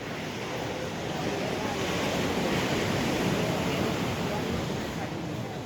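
Steady broadband roar of ocean surf breaking on the shore along the Puerto Vallarta Strip before Hurricane Roslyn, with wind noise buffeting the microphone and no clear talk.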